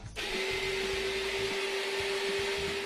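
A Yonanas dessert maker whirs steadily as it blends frozen pineapple and mango into sorbet, starting abruptly and holding a loud, even motor drone with a constant whine throughout.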